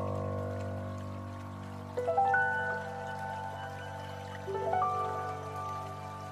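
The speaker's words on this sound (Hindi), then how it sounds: "और अब हम इसमें थोड़ा सा पानी डालेंगे, बस एक फाइन पेस्ट बनाने के लिए।" Water is poured into coconut chutney paste, arriving in two short bursts of trickling pour with rising ringing tones against a steady background hum. The pours are close and moderately quiet, with no talking.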